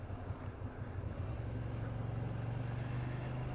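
A car overtakes a slower vehicle on a wide street, heard from inside as a steady low engine drone and road rumble that rises slightly in pitch as it accelerates past.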